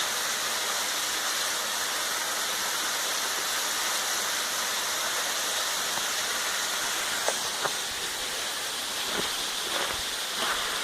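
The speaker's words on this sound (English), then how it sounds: "But man, is that waterfall pretty." A waterfall on a hiking trail in Salt Fork State Park roars as a steady, broad rush of falling water, heard close and continuous with no voices, and a few faint knocks toward the end.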